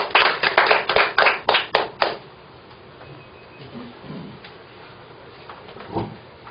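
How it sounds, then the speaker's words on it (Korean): A hall audience at a political forum lecture claps in quick waves to welcome a professor, loud at first and fading after about two seconds into room noise and scattered faint knocks. "나오실 때 여러 큰 박수로 맞이해 주시기 바랍니다."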